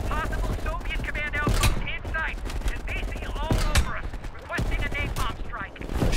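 Call of Duty: Black Ops Cold War campaign combat: sniper rifle shots and other gunfire crack in repeated loud bursts over a dense battle din, with voices mixed in.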